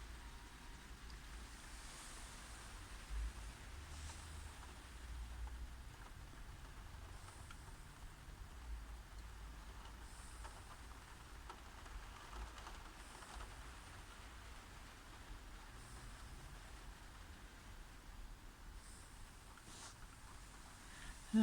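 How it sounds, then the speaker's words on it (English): Rain falling on the roof of a van, heard from inside: a faint, continuous wash of patter and rumble, with a few slightly louder drips and nothing else standing out. "We're just listening to the rain on the roof."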